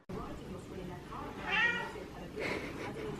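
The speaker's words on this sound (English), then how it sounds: "he just keeps like meowing" A cat meows a couple of times, drawn-out and whiny, close by over a quiet indoor background with some faint talk.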